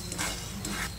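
Spices frying lightly in a pan give a soft, continuous sizzle with faint scraping stirs, low in level and heard close, with no talking.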